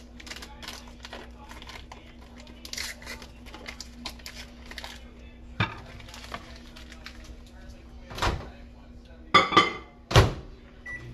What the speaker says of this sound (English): I'm going to put that in my microwave.